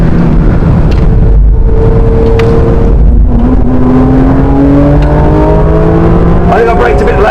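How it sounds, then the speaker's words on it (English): Flat-six engine of a modified Porsche GT3 RS in a racing game, revving loudly and climbing steadily through the gears with a continuous, rising tone, close and prominent, with talk over it. "that flat 6 sounds so amazing"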